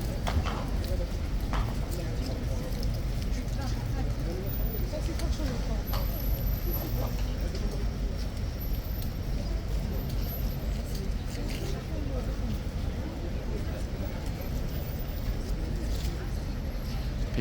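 Horse hooves clip-clopping on pavement as a restless, unsettled horse shifts about at Horse Guards in London, with steady traffic noise and people talking throughout.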